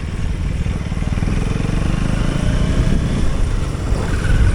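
KTM Duke 250 gen 3 motorcycle accelerating hard on a speed run, a loud continuous engine roar mixed with heavy wind rush that holds steady throughout, heard from the rider's position.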